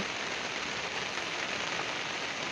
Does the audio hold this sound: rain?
yes